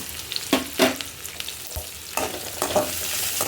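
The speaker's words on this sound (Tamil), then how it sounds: "அதுக்கப்புறம் ஆனியனும் பச்சை மிளகா போட்டுடலாம்" Onions and green chilies sizzle with whole spices in a pan for rava upma, with loud stirring scrapes in bursts over a continuous close frying hiss.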